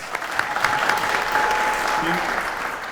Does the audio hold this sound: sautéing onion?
no